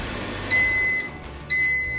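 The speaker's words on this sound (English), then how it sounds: "The timer just went off on the microwave" A kitchen microwave timer sounds two short, clear electronic beeps about a second apart over a low background hum, moderately loud and close.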